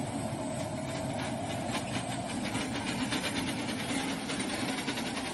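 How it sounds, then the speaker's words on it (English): A steady, rhythmic chugging rumble like a steam train on the move, heavy and continuous with no pauses, heard in Ukraine war footage. "Sounds like a steam train on the move."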